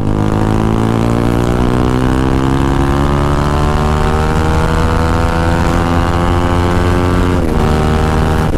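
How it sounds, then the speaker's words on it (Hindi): A sport motorcycle engine in track mode at full power roars loudly and continuously at high revs, its pitch sweeping steadily as it accelerates, with a brief shift near the end. "बाइक की आवाज बहुत ज्यादा ज़्यादा आ सकती है"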